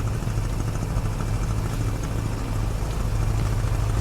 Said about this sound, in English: Hear an enemy engine.